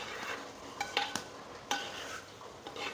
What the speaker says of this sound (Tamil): இப்போ ஒரு டைம் நல்லா கிண்டி கொடுத்துக்கோங்க